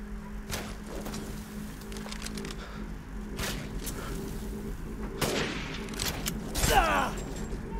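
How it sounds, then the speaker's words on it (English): Sniper rifle gunfire in the Resident Evil Village game, several sharp shots spaced across a few seconds with the loudest near the end, under a steady low game ambience. "This is why I love my sniper rifle, cause it gets the job done from a distance."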